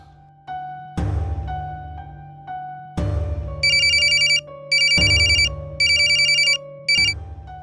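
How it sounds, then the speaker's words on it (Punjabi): A telephone rings on an outgoing call: a few short tones, then a bright electronic ringtone repeating in regular loud bursts with brief gaps, clear and close, with no talking. "ਨੀਟੇ ਨੂੰ ਫੋਨ ਕਰਦਾ।"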